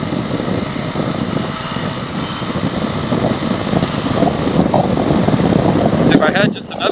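Husqvarna FE 350s dirt bike ridden on a gravel road in the rain, its engine a steady close roar mixed with rushing wind noise, with someone talking over it.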